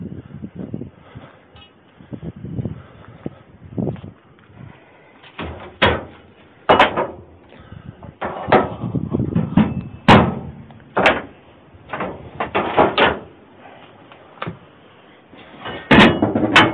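Door pushed open and slammed shut at a home worksite beside freshly poured concrete, a series of sharp, loud thuds and bangs spread over the stretch with quieter shuffling and handling noise between them, no talking.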